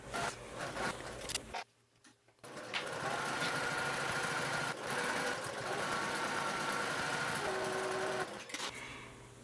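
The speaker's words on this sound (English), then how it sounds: "I'm just going to fold it and hold it as I sew." A sewing machine top stitches a folded crossbody bag strap, a fast steady mechanical whir running close and even for several seconds after a brief pause near the start, with no talking.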